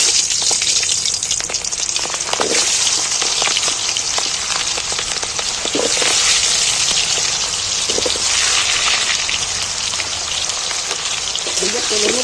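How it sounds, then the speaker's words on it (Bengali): Whole onions spit and crackle in hot oil in a pan for a home chicken curry, a dense, steady hiss close by with occasional louder pops and stirring scrapes. "এইবার আমি গোটা পেঁয়াজগুলো তেলের মধ্যে তুলে দিচ্ছি"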